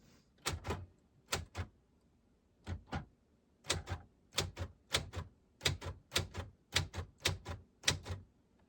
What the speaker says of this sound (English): bust out your fucking typewriter